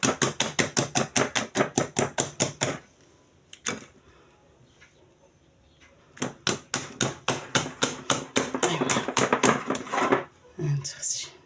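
Cake batter of flour and eggs being beaten by hand in a bowl, quick, regular tapping strokes in two long bursts separated by a quiet pause, close and fairly loud.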